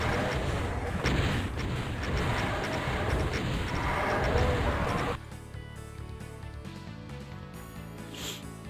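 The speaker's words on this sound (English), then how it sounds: "No, I'm shooting Jimmy!" Loud, dense bursts of gunfire and blasts from a DOOM mod video game, rapid and continuous for several seconds before cutting to quieter game sounds, with a voice shouting over it.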